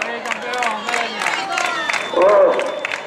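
Spectators at a popular town road race in Meaño cheer and applaud a passing runner, a mix of clapping, shouts and crowd voices, with a loud whoop near the end.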